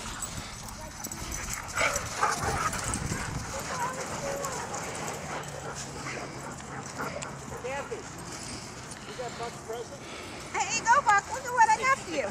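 Dogs play and romp at a dog park, with scattered yips, whimpers and scuffling in the open air, while people talk casually over them throughout and the activity grows livelier toward the end.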